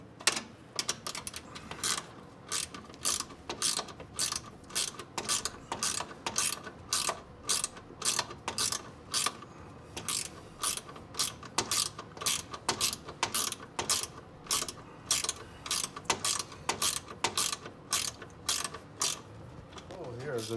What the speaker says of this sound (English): put it on the bolt, and tighten it down with a 10mm